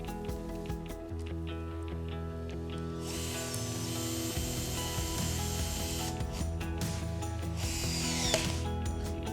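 A torque wrench ratchets steadily with rapid clicking bursts while tightening the bands of a Husky SD 4000 heavy-duty pipe coupling, close up and alone, faint metallic clatter between strokes.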